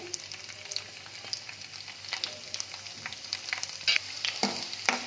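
Crushed garlic and curry leaves frying in hot oil in a pan, a steady close sizzle with crackling pops and occasional stirring scrapes, no voices.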